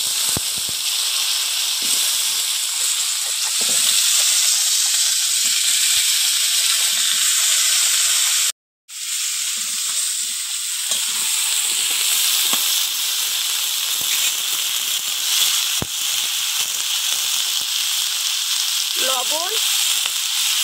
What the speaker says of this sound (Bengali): মশলাটা হয়ে গেছে ভাজা। এবার আমি কুমড়োগুলো দিয়ে দেবো